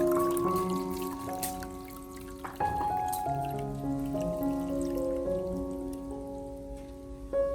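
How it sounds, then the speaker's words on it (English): Liquid from a lemon peel solution being poured through a strainer, a continuous trickle and drip with shifting watery tones, close and alone without voices. "Next, I strain out all the lemon peel,"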